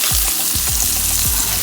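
Beef liver frying in a pan, a steady close sizzle running throughout, with a few low thumps of the pan or spatula as the pieces are moved.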